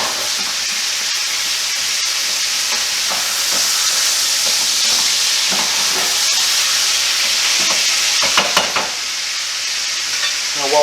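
Crushed garlic cooks in a pan with a loud, steady sizzle, while a utensil stirs it in repeated scraping strokes that grow busier toward the end.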